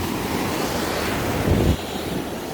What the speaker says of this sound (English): look at the sand when it comes in, and my foot just steadily sinking as the waves come in